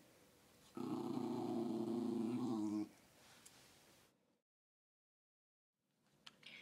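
A dog guarding a bone gives a low, rumbling growl, close and steady for about two seconds, followed by quieter rustling, then silence and faint movement.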